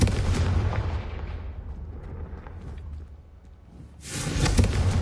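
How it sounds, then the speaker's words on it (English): A Confringo fire spell cast in the Hogwarts Legacy video game bursts out as a loud, booming blast, fades into a dimmer rumble, then swells again with a second forceful burst near the end. "I think you'll find that a Confringo cast travels a bit farther than that of a spell like Incendio"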